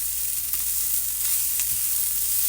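Walnut taco meat sizzling in a pan over low heat while being stirred, a steady close hiss with soft occasional scraping.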